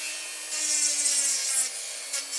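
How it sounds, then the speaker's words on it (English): A small cutting wheel grinds into soft opalized petrified wood, a close, continuous high-pitched abrasive whine with a steady motor tone that shifts in intensity as pressure changes, no talking. "I test her out for a second. This is really soft piece of opalized petrified wood."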